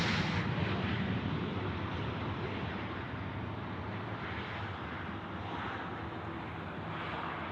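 A Qantas jet airliner takes off from runway 34 left at Sydney Airport, its engines producing a loud, rough, crackling roar that stays heavy and steady, easing slightly after the first second.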